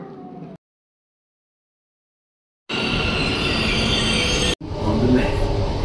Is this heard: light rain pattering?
no